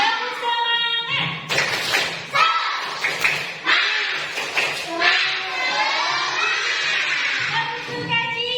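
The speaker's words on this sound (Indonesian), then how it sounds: "Tepuk semangat." Children's rhythmic cheer clapping during a classroom lesson: a group claps in quick patterned bursts while young voices chant along loudly and nearby.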